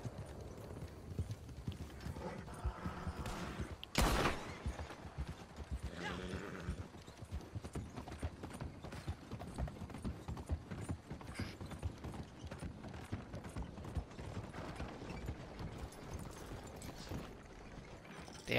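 Hooves clip-clop steadily as a horse pulls a wagon in Red Dead Redemption 2, with a rhythmic trot, creaking wooden and mechanical rattles, and one sharp knock near the start.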